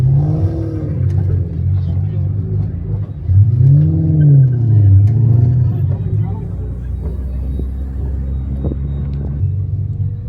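All-wheel drive Mitsubishi Evo engine on a race run, a loud steady in-car drone rising and falling in pitch as it revs through gears, with a voice talking over it.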